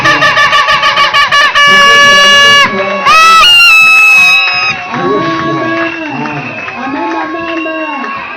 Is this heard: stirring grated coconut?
no